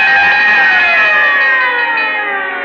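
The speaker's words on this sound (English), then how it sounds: "whenever you hear the siren and bell, think of Texaco Fire Chief Gasoline" A Texaco Fire Chief siren wails loud and close on an old radio broadcast, holding a high tone and then sliding slowly downward as it winds down, heard alone.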